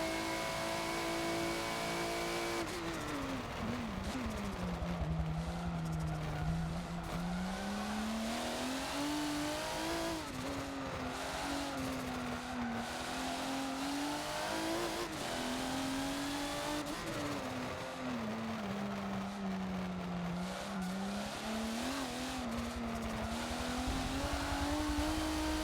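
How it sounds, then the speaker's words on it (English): In Forza at the Nurburgring GP circuit, a race car's engine revs up and down in steady waves through repeated gear changes, loud and continuous from start to finish. "Just a nice sounding engine."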